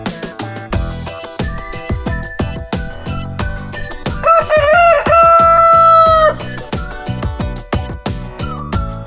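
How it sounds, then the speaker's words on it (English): A loud, close rooster crows once in a long, drawn-out call midway through, set against a bouncy rhythmic music track with a steady beat. "Rooster says cock doodle doo."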